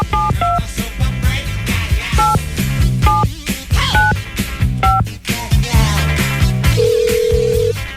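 Touch-tone telephone keypad tones beeping in a quick rhythmic sequence while calling in, set against steady background music, ending with one longer held tone.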